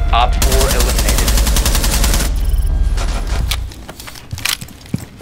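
Rapid automatic gunfire in the tactical shooter Rainbow Six Siege, a loud sustained burst lasting about two seconds, then fading into scattered single shots and clatter while voices talk over it.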